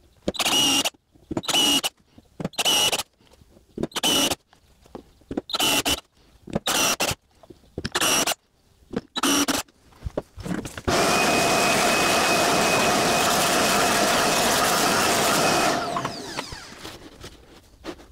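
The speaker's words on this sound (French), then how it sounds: "Il n'y a plus qu'à percer avec la bague d'arrêt," A drill fitted with a stop collar bores into a wooden board while speaker drivers are being recessed into a DIY center-channel cabinet. Short close bursts come first, then one long steady whirring run that tapers off.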